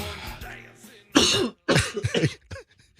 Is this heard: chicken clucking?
no